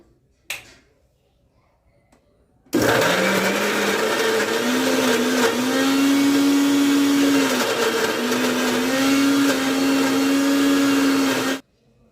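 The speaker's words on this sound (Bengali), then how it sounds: "দিয়ে এবার চিকেনটা পেস্ট বানিয়ে নেব।" An electric blender grinds chicken into a paste, a loud steady whirring motor with pitch shifts as the load changes, starting abruptly after a short pause and running continuously for about nine seconds before cutting off.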